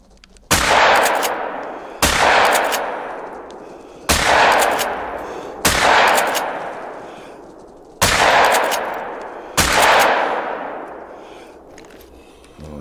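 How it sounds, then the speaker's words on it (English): Six loud, booming shotgun blasts in the hunting game theHunter: Call of the Wild, fired at roughly one-and-a-half to two-second intervals, each with a long echoing decay into the open landscape. "joys of having a shotgun"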